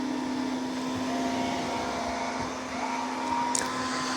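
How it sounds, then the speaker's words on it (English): A MOVA Z60 robot vacuum vacuuming and mopping a floor at the same time, giving a steady close whirring drone with a constant motor hum and a faint brief chirp near the end, with no talking. "Now I've got it in Clean Genius, so it is vacuuming and mopping at the same time."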